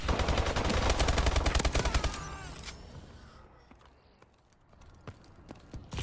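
Video game gunfire in gun game mode: a rapid, loud stream of shots for about two seconds, then thinning out to scattered single shots and sparse bursts, with no voices.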